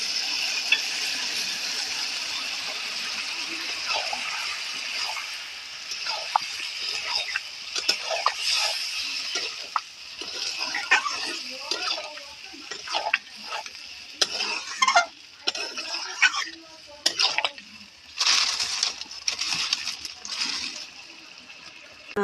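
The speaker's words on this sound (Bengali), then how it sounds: "এবারে সিদ্ধ করা ডালটা দিয়ে দেবো" Boiled dal goes into a sizzling pot of sautéed spices and is stirred in, with wet splashes, spoon scrapes and clatter over a constant frying hiss, close and busy.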